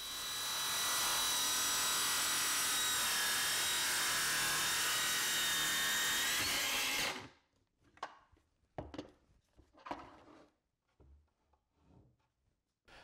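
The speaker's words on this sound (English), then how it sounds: "the edge of the track, I know exactly where the saw is going to cut." A circular saw rips steadily along a Milescraft TrackSawGuide track through sheet material such as plywood or MDF, loud and continuous for about seven seconds before cutting off, followed by quieter handling knocks and shuffles.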